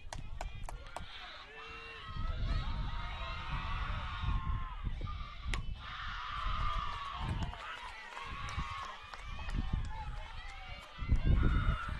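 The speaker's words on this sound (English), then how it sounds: "South bench cheering her on, making some noise here" Softball team bench cheering from the South Medford dugout at a high school game, a steady crowd-like chatter of shouts and voices running throughout, swelling louder near the end.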